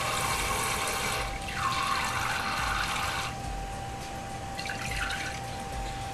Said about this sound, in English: is to fill up the beaker. I'm using tap water.